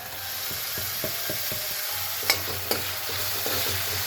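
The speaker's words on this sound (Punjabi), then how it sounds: "ਹੁਣ ਆਪਾਂ ਇਹਦੇ ਵਿੱਚ ਆ ਪਿਆਜ਼ ਵੀ ਪਾ ਦਿੰਦੇ ਜਿਹੜਾ ਚੌਪਰ ਤੇ ਪਾ ਕੇ ਚੌਪ ਕੀਤਾ ਨਾ ਇਹ ਪਾ ਦਿੰਦੇ" Chopped onion frying with garlic and ginger paste in a pan shows a constant hiss, with light spoon taps and scrapes at a quick pace and two sharper clinks against the pan.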